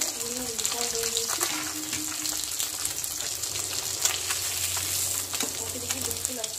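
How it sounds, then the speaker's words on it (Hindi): Bata fish sizzles steadily as it fries in a pan, a continuous close crackle with some stirring and clinking, under occasional background sounds. "आप देख सकते हैं मछली मेरा अच्छी तरह फ्राई हो चुका है"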